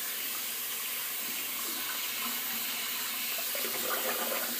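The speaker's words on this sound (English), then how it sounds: "Gotta rinse my hand off real quick." Tap water runs in a steady, quiet stream as a hand is rinsed under it, with faint splashing shifts near the end and no speech.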